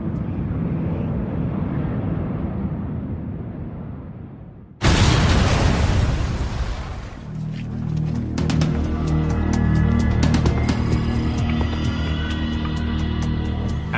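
A bomb explodes at Tokyo's Narita airport: a sudden loud, close blast breaks into a low rumbling roar, then gives way to a dense, lingering mix of debris noise and alarm-like tones.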